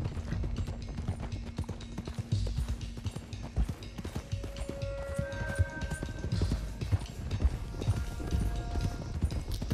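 Rapid hoofbeats of horses galloping in Red Dead Redemption 2 clatter continuously, dense and loud, with a steady hum and occasional tonal notes of game sound underneath.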